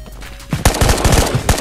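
A quick burst of close, loud gunshots rings out in Ghost of Tabor, a handful of sharp reports in fast succession after a brief quieter moment.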